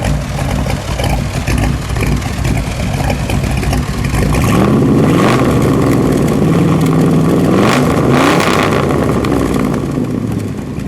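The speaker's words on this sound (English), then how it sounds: "Chevrolet small block V8 with a little bit of a camshaft in it, 10-to-1 pistons, and fuel injection. Let's give it a little rev, shall we?" A fuel-injected 1963 Chevrolet Corvette split-window small-block V8 with a mild camshaft and 10-to-1 pistons idles loudly, then is revved up in a rising, rough roar before settling again.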